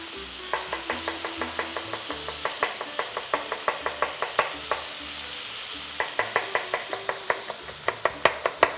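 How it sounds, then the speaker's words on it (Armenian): A knife chops garlic on a board in a home kitchen while meat fries nearby, a fast regular series of sharp taps in bursts with short pauses, over a steady background sizzle. "Դուք սխտորը մանրացրեք"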